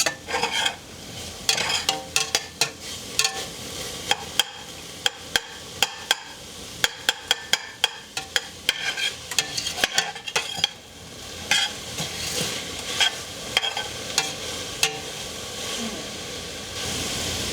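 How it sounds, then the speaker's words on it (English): Garlic cooks in a pan for a homemade hamburger-helper-style dish, a close sizzle with rapid bursts of spoon-on-pan stirring clatter in the first half, then a steadier hiss. "we're going to let that cook for another 30 seconds. Because no one likes raw garlic."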